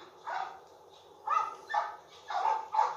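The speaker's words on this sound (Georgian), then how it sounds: "აი როგორ ხედავთ ძაღლები." Dogs barking in the video game The Last of Us Remastered, several short yelping bark bursts in irregular clusters, moderately close but fairly quiet, with no voices over them.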